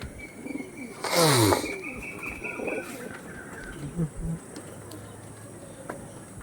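Pigeons at a Madras and Andhra pigeon sale give a loud burst of cooing and flapping early on, then softer scattered coos and calls over a busy background.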